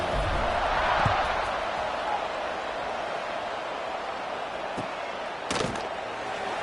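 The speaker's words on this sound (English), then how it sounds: "this crowd is buzzing after that last score" Stadium crowd buzzing after a touchdown at a football game, a broad, steady roar of many voices heard at a distance, with a commentator talking over it.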